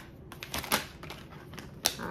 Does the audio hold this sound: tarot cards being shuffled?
yes